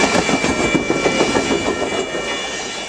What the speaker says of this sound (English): listen to what a train sounds like when it blows its horn at 105 decibels as it passes through a crossing